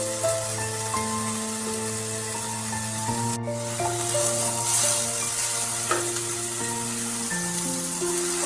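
Banana stem (thor) sizzles in hot oil with a tempering of green chilli, a steady close frying hiss with faint rubbing and stirring over it, no talk.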